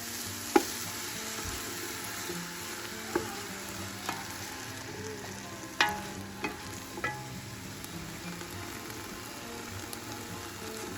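Vegetables for soup cooking down in a pot on low heat in their own juices with a little oil, a quiet steady simmering sizzle with a few sharp knocks and ticks, close, no talk.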